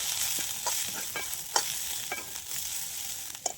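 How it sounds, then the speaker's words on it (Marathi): Chopped onions frying in hot oil in a kadhai over a clay stove, a soft steady sizzle punctuated by several short scraping stirs of a spoon, fairly quiet and close with no voices. "आता हे कांदे मस्त असे भाजून घ्यायचे."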